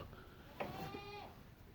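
Goats bleating in a barn pen where does and kids are kept, a single harmonic bleat lasting about half a second, moderately close above low barn background noise.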